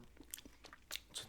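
Puffed Cheez Doodles bitten and crunched up close, a quiet run of soft, airy crunches and crackles over about a second and a half.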